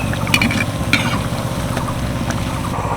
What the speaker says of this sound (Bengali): আমি এই আলু চপগুলো ভাজছি